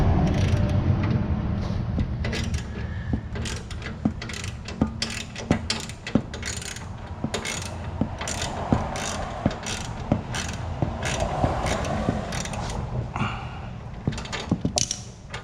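A ratchet working a 13 mm bolt on an MTD mower deck while the drive belt is replaced, giving a long run of sharp close clicks in steady rhythm over a low mechanical rumble, with no talk.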